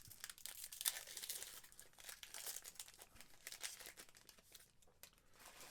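Crinkling and tearing of a foil trading card pack being ripped open up close, a run of sharp crackly bursts with no talking.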